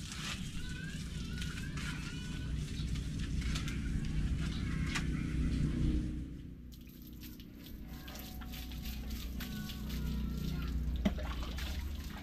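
Water is poured over a person's body while bathing, with steady splashing and dripping that dips briefly midway, then resumes with scattered drips close by.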